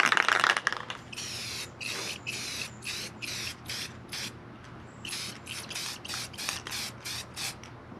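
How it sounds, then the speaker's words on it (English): Rattle can of gloss protective enamel spray paint sprayed onto a scooter, a series of short hissing bursts in quick rhythm, close and clear with no talk. "We're gonna go ahead and spray on here and see if we can cover some of this up."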